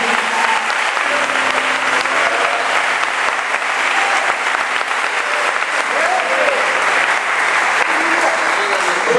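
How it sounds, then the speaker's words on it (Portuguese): A congregation applauds steadily at a church service, dense clapping sustained at an even level throughout, with faint voices mixed in beneath. "Erga as duas mãos para os céus e aplauda ao Senhor"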